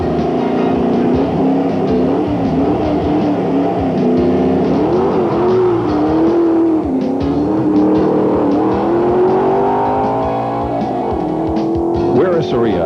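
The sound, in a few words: modified 1984 Corvette big block race car engine revving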